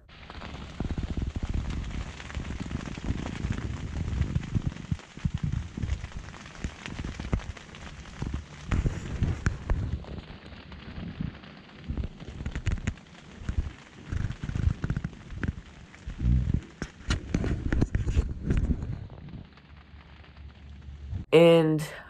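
Rain falling off and on at a deer camp on the opening day of rifle season, captured on a GoPro in very windy conditions: steady broadband patter and wind rumble with irregular gusts and bumps, close and moderately loud throughout.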